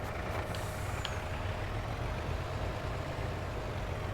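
A truck in the Farming Simulator 22 video game, set on a Green Valley Nebraska farm map, rumbles steadily with a sharp hiss of air brakes near the start, with no talk over it.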